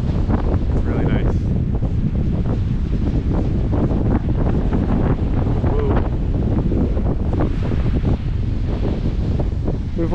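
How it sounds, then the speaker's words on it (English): Strong wind in open Icelandic countryside blasting across the microphone, a loud continuous rumbling buffet with ragged gusts throughout, and voices talking faintly beneath it. "Yeah, the wind is just a bit too much. Yeah, it's just a little windy. You can probably hear it."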